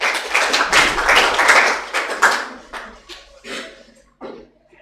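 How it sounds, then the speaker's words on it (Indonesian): A classroom group claps hands in a short burst of dense, close clapping that thins out into a few scattered, fading claps. "Tepuk tangan."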